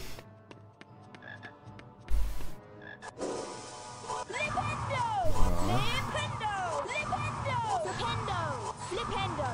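Frogs croaking in a Harry Potter video game, repeated bouncing croaks over game music and effects, loud and close, with someone talking and a sharp spell-like burst partway through.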